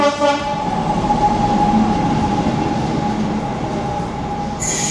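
A Southeastern Class 375 train on the 10:38 London Charing Cross service rumbles past close by with a loud steady roar and a sustained tonal whine, fading slightly toward the end, no voices.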